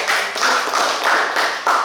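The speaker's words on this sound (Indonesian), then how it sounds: "Tepuk tangan dulu" In a school teacher-training session, a small group claps hands in rhythmic, evenly spaced bursts of clapping, close and fairly loud, about four pulses in under two seconds.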